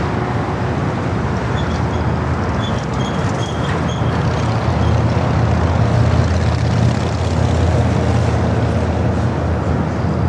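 A Boeing 737-900 airliner on a flight from Denver at Los Angeles LAX airport gives a loud, continuous jet roar that swells slightly midway, heard alone without talk.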